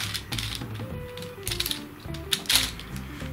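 A 2x2 puzzle cube being turned by hand makes quick plastic clicks and ratcheting clacks in irregular bursts, close up and fairly clear.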